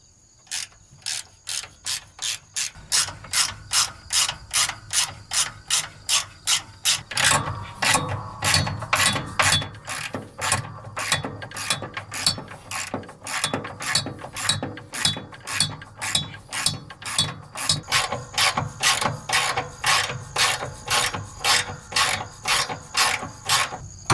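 A ratchet clicks in fast, regular bursts while the muffler is being removed from a John Deere Gator 4x2, each stroke a sharp mechanical rattle, close and loud, repeating for the whole stretch with a brief pause partway through.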